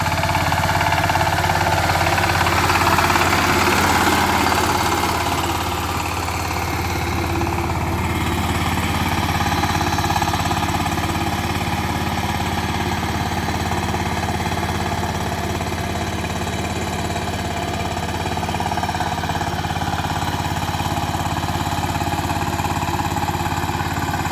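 A power tiller engine runs steadily while plowing a field, a loud, continuous mechanical chugging with a constant low drone and no voices.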